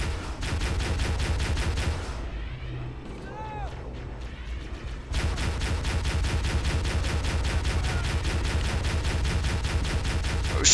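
Dense rapid automatic gunfire from Halo's Assault on the Control Room mission, loud and continuous, breaking off briefly before resuming at full intensity.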